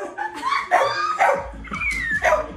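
A dog barks about five times in quick succession, loud and close, the sharp yaps mixed with whiny, whimpering tones and a low rumble underneath.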